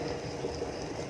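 Malasugue soup bubbling at a low simmer in a pot, a soft, continuous burble of small pops, faint and close, with no talking.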